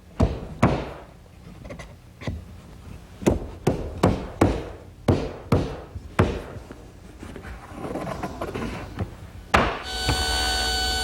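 Tiger maple washstand pieces are knocked together during a dry fit, a series of sharp wooden taps and thuds at uneven intervals, close and fairly loud, ending in a steady tonal whir.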